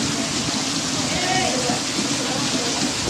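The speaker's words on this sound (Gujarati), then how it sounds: "વરસાદ પણ ખૂબ છે અત્યારે." Heavy rain pours steadily at a Ratneshwar temple site as runoff gushes down from a ravine, a dense, even hiss of water that holds constant and loud throughout.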